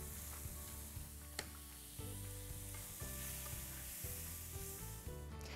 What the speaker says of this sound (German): Wichtig beim Sautieren ist, dass die Pfanne so richtig heiß ist, bevor die Pilze und das Gemüse hineinkommen